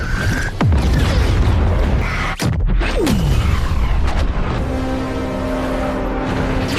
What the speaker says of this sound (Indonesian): Namun saat ditembakkan terjadilah ledakan besar pada kapal tersebut